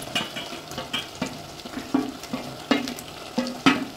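Soya chili boils and sizzles in a pan, with a steady frying hiss broken by a regular series of sharp scraping stir strokes, roughly two per second, close up with no talk.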